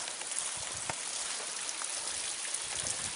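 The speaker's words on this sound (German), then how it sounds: "Ein wunderschöner Bach." A brook in the Black Forest runs in a steady broad rush of water, even and unbroken throughout, with a few faint splashes and no one speaking.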